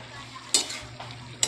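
Pinakbet vegetables with pork cooking in a pan, with faint sizzling under a low steady hum and a few brief stirring clatters.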